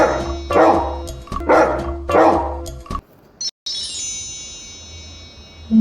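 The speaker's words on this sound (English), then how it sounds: "Dog." Dog barking in three loud, evenly spaced bursts, each a sharp bark with a tonal tail, followed by a brief gap and a higher whine or whimper fading into quiet.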